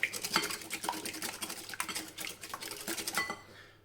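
Two eggs are beaten in a bowl for an Alsatian apple tart, a quick run of light clinking and tapping strokes close by, fading out at the end.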